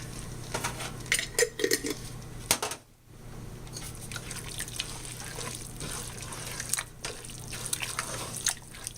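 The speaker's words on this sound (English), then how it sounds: "I just filled this jar up about a little bit more than half with water. I'm going to put that in there." Water poured from a jar into a cooking pan with meat for tacos, a close splashing, gurgling pour with clinks of glass and metal, then sizzling and bubbling in the pan; no voices.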